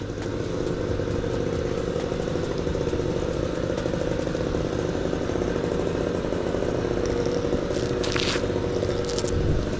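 Gas-powered blower clearing excess sand off freshly swept shell stone pavers outdoors, a loud, steady engine drone that runs the whole time with faint scraping and clatter on top.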